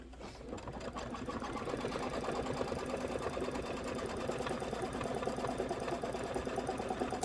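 A computerized embroidery machine stitches a quilting stitch on a Kimberbell Cup of Cheer wreath and present design, a fast, steady, close mechanical chatter starting after a brief quiet moment and running without pause.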